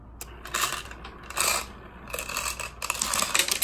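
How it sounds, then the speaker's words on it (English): An Easy Feeder dispenser drops M&M's out of its back chamber, making bursts of clattering, rattling candy with mechanical clicks. The bursts come close and fairly loud in several clusters, with no talking. "The back chamber is large enough to dispense M&M's."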